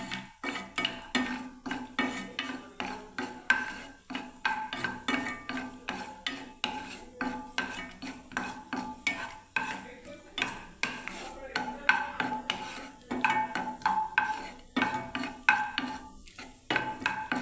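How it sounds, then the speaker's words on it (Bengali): Cashew nuts frying in two spoons of ghee in a pan, stirred with a metal spoon, giving steady repeated scraping and clinking against the pan with a faint sizzle underneath, close up throughout. "এবার আমি কাজু বাদামটাকে ভেজে নিচ্ছি"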